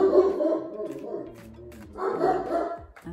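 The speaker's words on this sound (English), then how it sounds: "oh, there go the dogs." Dogs bark indoors nearby in two clustered bursts of yapping, a brief lull between them, fairly loud and sharp.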